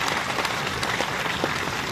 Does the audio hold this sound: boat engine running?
no